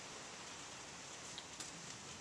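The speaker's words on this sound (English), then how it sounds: "Holy tits, it's raining" Steady rain falls outdoors as an even, hissing wash of noise with a few faint drop ticks and no voices.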